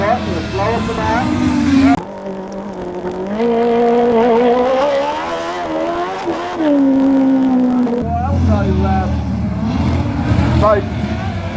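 A racing sidecar engine roars on a speedway track at Oceanview, its tone wavering and surging unevenly as it runs roughly, loud and close with a commentator talking over it.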